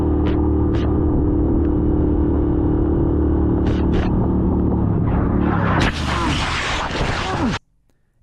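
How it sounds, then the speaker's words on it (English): A motorcycle engine roaring loud and steady during a crash, then a harsh burst of scraping noise before it cuts off abruptly into near silence. "Listen to Isaiah's throttle."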